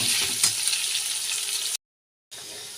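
Potato pieces sprinkled with salt fry in hot oil with a dense, steady sizzle that cuts out briefly, then picks up again.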